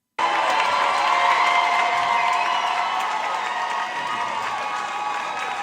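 A large crowd cheers and applauds loudly as a guest is introduced, a sudden burst of shouting and clapping that sustains at full strength before easing slightly toward the end.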